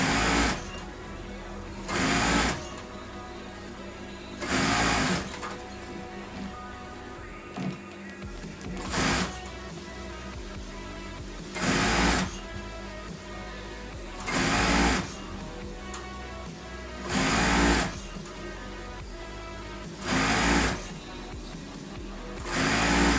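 A sewing machine stitches a pillowcase in short, loud bursts of rapid stitching, each about a second long, separated by pauses of a couple of seconds, heard up close and repeating about eight times.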